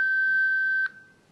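A single steady electronic beep from a device prompting for a spoken name, holding for most of a second before cutting off, leaving faint background hiss.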